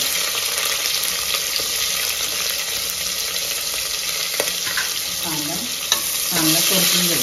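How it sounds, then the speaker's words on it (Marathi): Onion sautéing in hot oil and ghee with whole spices gives a steady, loud, close sizzle and frying hiss, with occasional stirring scrapes and a faint voice near the end. "कांदा परतून घ्यायचा."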